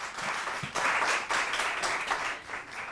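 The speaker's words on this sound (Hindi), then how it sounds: "इनके लिए तालियां" In a TV morning-show studio, the audience gives a short burst of applause for a guest, a dense, even patter of clapping with no voices over it.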